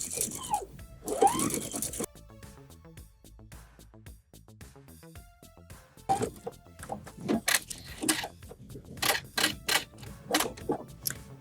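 A sewing machine stitching a zipper to fabric runs in quick, rapid bursts of mechanical clatter, pausing and restarting several times.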